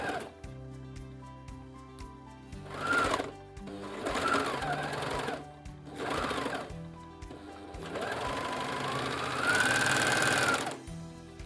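A sewing machine stitches the hem of a t-shirt in several bursts of rapid mechanical whirring with short pauses between them. The sound is close and clear.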